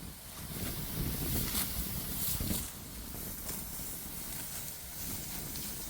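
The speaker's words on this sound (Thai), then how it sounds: "เสียงลมบนต้นไม้นะเบิ่งนะ" Wind rushes through the trees beside a rice field in rural Thailand on a cold evening, producing a continuous broadband whoosh that swells in gusts during the first half and then settles into a steady rustle.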